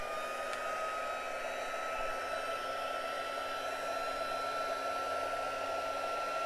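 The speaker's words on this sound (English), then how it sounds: "heat tool." An embossing heat tool blows hot air in a steady, continuous whirring drone with a faint high whine, heard alone and unchanging from start to finish.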